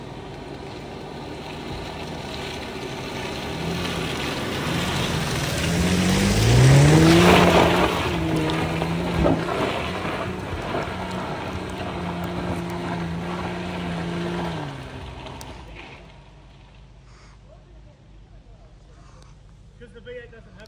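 A Holden Adventra V8 climbs a rough 4WD track near Creswick, Victoria, its engine revving and rising in pitch for several seconds before easing back and dropping away near the end.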